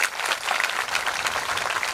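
Audience applause at a Shrimad Bhagavat Katha religious discourse in a village gathering, dense continuous clapping from many hands filling the whole short stretch at steady loudness.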